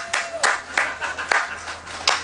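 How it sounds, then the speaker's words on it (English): Sparse clapping from a live radio show audience at a state fair, about six separate claps spaced irregularly, fairly close and distinct. "Clap your hands."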